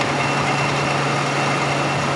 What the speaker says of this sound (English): Now the rattly sound is from the motor. This motor always made that sound.